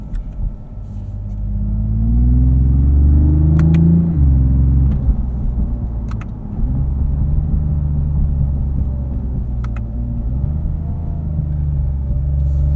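Interior sound of a 2026 Lexus IS 350 F Sport AWD sedan on the road, a steady low engine rumble that climbs in pitch as it accelerates, drops at a shift and then holds an even drone, with a few faint clicks.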